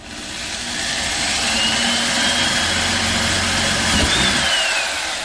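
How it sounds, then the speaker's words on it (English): A power drill bores a 1/4-inch hole through a PVC drain tailpiece under a kitchen sink, giving a steady, close motor whine and grinding that builds in the first second and holds for about five seconds with no talking. "I'm going to drill a 1/4-inch hole in this pipe right here."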